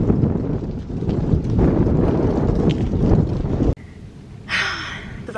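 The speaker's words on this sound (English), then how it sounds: "so annoying to drive with all this wind" Strong wind buffeting a van while driving, a dense, loud roar and rumble for several seconds that cuts off abruptly, followed by quieter cabin noise and a brief hiss.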